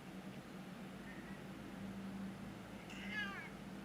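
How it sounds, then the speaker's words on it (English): Faint, distant meows from a house cat, one short call early on and a longer rising cry near the end, over a steady low room hum. "Cat's being a drama mama."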